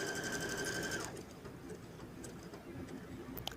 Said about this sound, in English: So we're sewing. I've got it at pretty much a full speed.